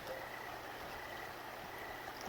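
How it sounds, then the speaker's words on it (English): The Logan River flows beneath a bridge on a dark night, a faint, steady hiss of moving water heard from above, soft and continuous with no voices. "I'm standing on a bridge over the river."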